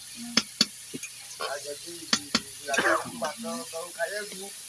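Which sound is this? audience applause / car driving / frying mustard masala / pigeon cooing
frying mustard masala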